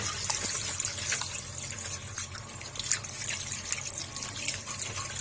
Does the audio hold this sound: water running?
yes